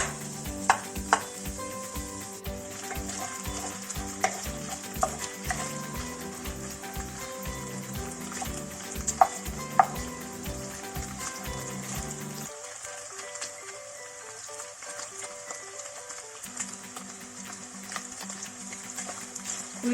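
Beef tail fat melting in a heated sac pan in a Diyarbakır-style kitchen, a soft steady sizzle under regular rhythmic pulsing sounds that stop partway, then a quieter, thinner frying hiss.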